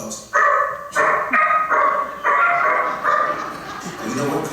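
Imitated dog barking for police dogs at a law enforcement appreciation dinner, a voice mimicking several loud barks in quick succession over a microphone with steady room noise.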